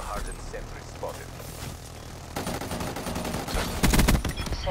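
Gunfire from a hardened sentry turret in Black Ops 3, with scattered shots early and then a steady rapid burst of automatic fire that grows louder near the end, mixed with other battle noise.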